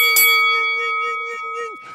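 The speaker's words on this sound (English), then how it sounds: "hit that notification bell" A bright notification bell chime rings out once near the start of a morning-show podcast, its tone ringing on with a sustained, slowly fading sustain, clear and up front.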